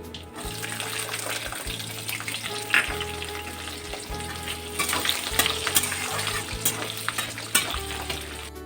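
Garlic and asafoetida fry in oil for tomato chutney, giving a constant bright sizzle under rhythmic low scraping of a spoon stirring the pan, close and steady, with no speech.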